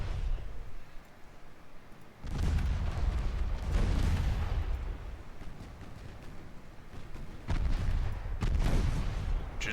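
Naval artillery gunfire from warships in Ultimate Admiral Dreadnoughts, heard as several heavy booming salvos at irregular intervals, loud and rumbling over a steady low background.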